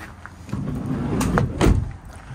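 Rear doors of a Citroen Dispatch van are unlatched and swung open, giving a couple of metallic clunks and a latch knock amid low background noise, with no talking.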